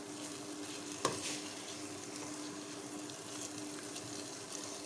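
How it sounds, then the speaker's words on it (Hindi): Carrot halwa made with desi ghee and khoya sizzles steadily in a pan while being stirred, with a sharp utensil clink near the start and soft scraping throughout; no one talks. "चलें अब इसको भूनने दें। ये देखिए इसको हम मिक्स कर रहे हैं अच्छी तरीके से।"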